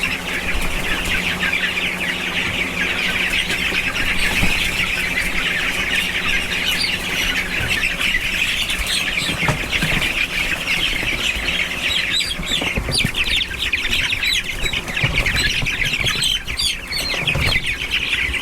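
Free-range hens on an organic farm in Australia cluck, squawk and chirp continuously, a busy flock heard up close and loud with overlapping calls and no talk.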